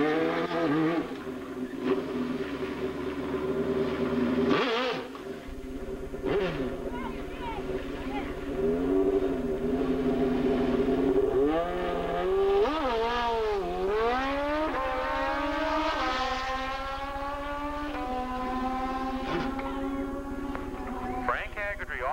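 A Kawasaki drag racing motorcycle accelerates down the Edinburg International Dragway in 1987, its engine note climbing in repeated rising sweeps. The run is loud and sustained, with an announcer talking over it throughout.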